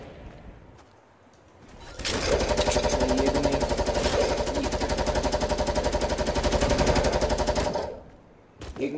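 Automatic gunfire in the game Fortnite, a loud sustained rapid-fire burst of about six seconds with a tight repeating rhythm, starting and stopping abruptly amid quieter game ambience.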